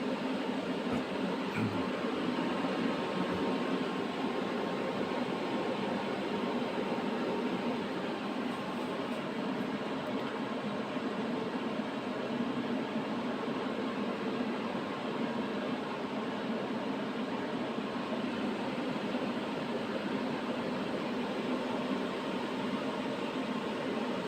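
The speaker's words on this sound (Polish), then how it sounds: "Słychać szum wiatraków, energia przetwarzana, składzana, elementy inwerterów." Steady broadband whirring hum of off-grid inverter cooling fans running continuously, an even, unbroken drone with no talk over it.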